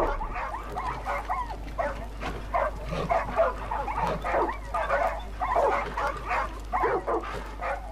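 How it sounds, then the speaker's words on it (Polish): Dogs bark in the video game Far Cry 5, a steady run of rapid, overlapping barks and yips that carries on throughout at moderate loudness. "I czego szczekasz?"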